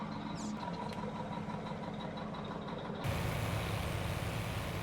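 A tractor engine in Farming Simulator 19 runs steadily at a low idle, loud and close, and its rumble thickens near the end.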